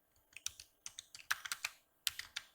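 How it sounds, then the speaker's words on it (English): Soft, close keystrokes on a computer keyboard patter in short uneven runs with small gaps between them. "So let's type background"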